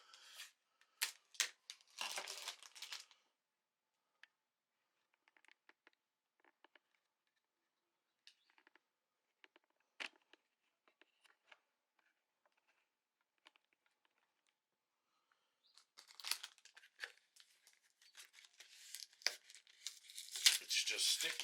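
A white paper envelope holding a LEGO Indiana Jones Temple of the Golden Idol instruction booklet is torn open and handled. Crisp tearing and crinkling bursts come close at the start, then a long near-silent stretch with scattered faint taps, then renewed paper rustling.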